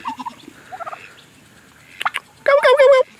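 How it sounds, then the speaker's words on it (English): A turkey gobbles loudly up close on a farm, a quick rattling burst, after some softer scattered bird clucks. "There's our turkeys."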